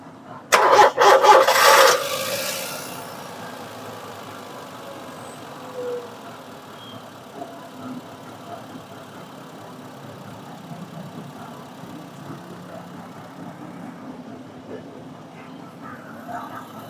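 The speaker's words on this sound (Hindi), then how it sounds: "माशाल्लाह स्टार्ट हो गई है गाड़ी।" A car engine, reassembled after oil and water mixed, cranks and catches with a loud churning start, then settles into a steady, quieter idle that runs for the rest of the clip, with faint voices in the background.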